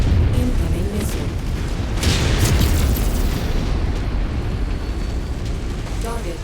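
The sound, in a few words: incoming missile explosion in Crimson Crusade video game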